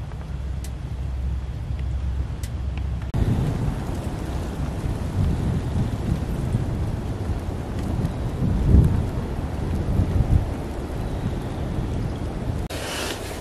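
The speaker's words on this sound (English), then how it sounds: "That wind's starting to howl." Heavy wind howling around a frozen tent during a -31 degree arctic blast with snowfall, a loud, steady roar with surging gusts and no talking.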